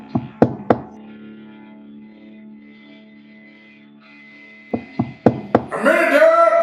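Sharp raps on a door: a quick burst of three knocks, a pause over a low steady hum, then four more knocks before a loud swell of sound.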